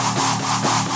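Soloed synth section layering a bright, harsh screech over a pulsing bassline, dense and continuous with a steady rhythmic throb, no voices.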